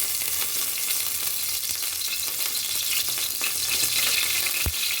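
Oil sizzles and crackles steadily in a hot pressure cooker, a continuous broadband hiss at moderate loudness with a brief sharp knock near the end.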